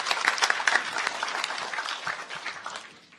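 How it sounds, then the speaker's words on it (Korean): Audience applause for a drone team at a public youth idea audition, a steady burst of many hands clapping that tapers off toward the end. "드론 드림팀에게 다시 한번 따뜻한 박수 부탁드립니다."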